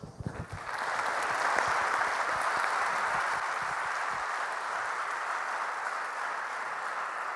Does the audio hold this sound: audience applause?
yes